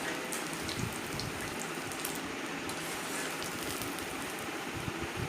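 Cauliflower pieces deep-frying in hot oil on a low flame, a dense, even crackling hiss like steady rain, continuous and close with no talking.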